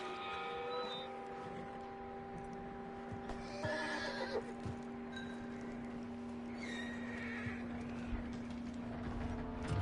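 A horse in Red Dead Redemption whinnies and snorts amid hoof clops, over a constant low hum and ambient game background.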